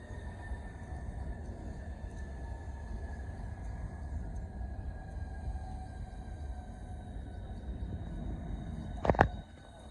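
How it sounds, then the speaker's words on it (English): A Southeastern Class 395 passenger train, unit 395027, runs past Gillingham on a Ramsgate to London St Pancras service. It makes a steady, moderately distant rumble, and a brief sharp clank comes near the end. "here we have the 1221 Southeastern service from Ramsgate to London St Pancras. 395027 leads the proceedings"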